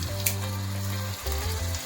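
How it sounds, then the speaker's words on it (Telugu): Onions, tomatoes and garam masala frying in a pan for a vegetable biryani give a steady, close, loud sizzle that runs unbroken for the whole stretch, with no talking. "సో ఆనియన్స్, టొమాటోస్ కూడా వేసేసుకొని మనం అంతా ఒకసారి బాగా కలిపేసుకొని ఫ్రై చేసుకోవాలి."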